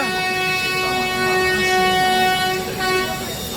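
A Satavahana Express train hauled by a WAP-7 electric locomotive at Secunderabad station, with a loud, steady horn-like tonal blare sustained throughout over rumbling train noise nearby.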